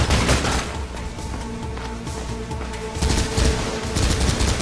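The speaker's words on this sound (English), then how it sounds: "Okay, I need a machine gun now." Machine gun fire in the video game Mirror's Edge: rapid, sustained bursts of automatic gunfire with loud cracks, continuing throughout with a brief lull before another intense volley.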